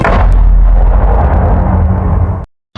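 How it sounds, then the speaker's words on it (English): A deep, booming cannon blast, the death sound that plays in Minecraft hardcore when a player dies. It is loud and rumbling, fills about two and a half seconds with no speech, then cuts off abruptly. "whenever someone dies, a death cannon plays"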